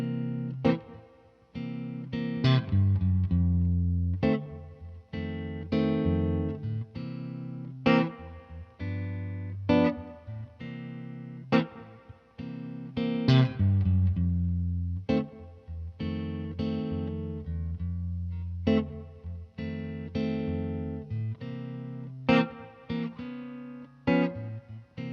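A blues song played as a 12-bar blues on electric guitar, steady rhythmic chord stabs and bass notes in a shuffling groove, close and fairly loud with a light effects tone, no talking.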